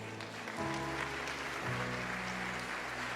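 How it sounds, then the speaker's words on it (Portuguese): A church congregation applauds at a worship service, a steady wash of clapping that stays fairly even for a few seconds with no voices on top. "Você pode aplaudir a Deus?"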